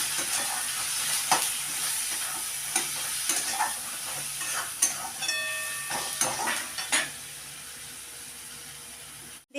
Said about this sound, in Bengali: দিয়ে আমি মশলাটাকে ভালো করে কষিয়ে নিচ্ছি।